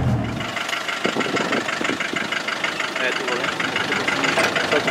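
An original Troller T4 jeep being built into a trail vehicle idles in first gear, a steady low rumbling engine with a knocking texture, heard close while a man gives driving instructions in Portuguese over it.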